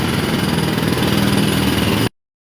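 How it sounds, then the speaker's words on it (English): Drilling machines run loud and steady nearby, a continuous mechanical engine-like drone that cuts off abruptly after about two seconds. "All right, they're drilling."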